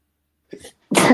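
A single sneeze, with a short in-breath just before it and a sharp, loud burst close to the microphone.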